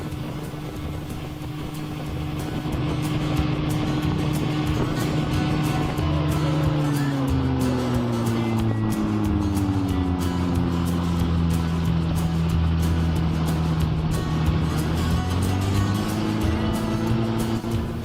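Loud, steady drone of a 1959 Johnson 18 hp outboard motor with a 1966 powerhead, pushing a 15-foot Duracraft john boat at 23 mph, its pitch dipping and rising slightly over time.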